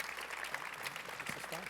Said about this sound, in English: How about a round of applause for Howard and Gary?